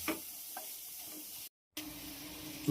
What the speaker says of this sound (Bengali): বাঁধাকপি সস সোয়া সস সব কিছু দিয়ে দিয়েছি এবার এটাকে একটু ফ্রাই করে নিচ্ছি